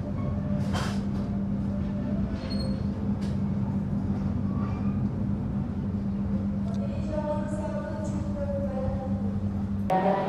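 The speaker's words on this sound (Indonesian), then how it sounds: "Sesaat lagi, kita akan tiba di stasiun Semarang Tawang, Marjana." Sembrani passenger train pulling into Semarang Tawang station, a steady rumbling interior drone with a low hum, brief squeals and clatter building toward the end, heard from on board with faint voices in the background.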